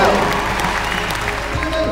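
A crowd at the Horse of the Year Show 2021 cheers and claps for a pony club mounted games rider, a dense, loud wash of applause and voices lasting throughout.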